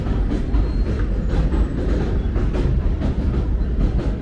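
A subway train rumbles along elevated tracks in Brooklyn at reduced speed, loud and close, with continuous low roar and rhythmic clickety-clack of wheels over rail joints, with no talking.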